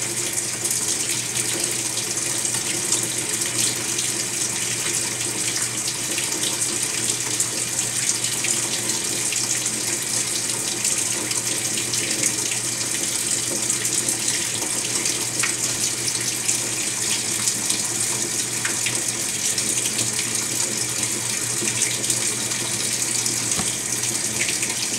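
A Maytag MVWX655DW1 top-load washing machine fills with water on a hand wash cycle with Woolite detergent, a steady, unbroken rush of water pouring in at an even level throughout.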